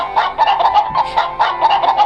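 Several cartoon chickens cluck in quick, overlapping bursts, steady and close by, with no talking.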